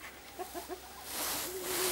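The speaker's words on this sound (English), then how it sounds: "And there's the Jack Russell chasing the chickens." A few soft, quick chicken clucks nearby as a Jack Russell terrier chases the chickens, followed by a rising rush of noise and a brief higher squawk at the end.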